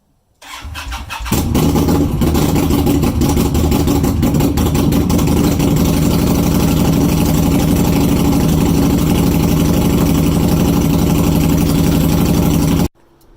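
An Indian Scout Bobber motorcycle starts up and runs loudly nearby, a rough low rumble holding steady for about ten seconds before cutting off abruptly.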